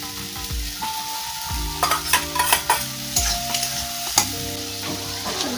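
Tomatoes and chili fry in a pan alongside potatoes and neem leaves, a loud, close sizzle broken by repeated scraping stirs and clinks of a spatula against the pan, with no talking.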